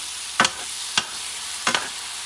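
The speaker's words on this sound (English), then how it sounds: "And I'm going to mix everything together." Goat paella ingredients with canned tomato and smoked paprika being stirred in a pan, three distinct scraping strokes against a steady low sizzle, close and alone.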